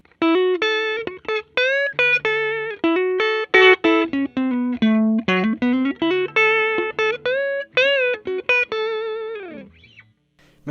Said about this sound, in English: I'm going to turn the master up to about 4.